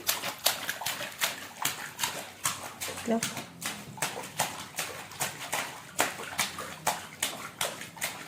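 Someone bathes indoors, with water poured and splashed in a steady rhythm of repeated close splashes while a person talks throughout.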